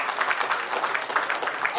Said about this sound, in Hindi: एक बार और सभागार की ओर से तालियां और सम्मान